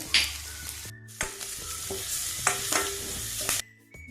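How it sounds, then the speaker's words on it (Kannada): Onion and turmeric powder fry in a pan for a pumpkin side dish, a steady sizzle broken by several loud stirring scrapes and clatters, close and without talk. "ನೋಡಿ, ಅದೆಲ್ಲ ಫ್ರೈ ಆಗಿದೆ."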